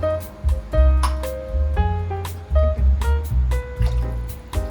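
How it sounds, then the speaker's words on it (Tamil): Water splashes and trickles into a cooking pot in uneven bursts, close by, with clattering and pitched ringing from the pot. "இந்த கிளாஸுக்கு 2 கிளாஸ் தண்ணி ஆட் பண்ணிக்கிறேன்"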